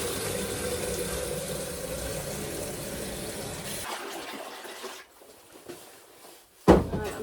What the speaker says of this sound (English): Just going to add in the cold water now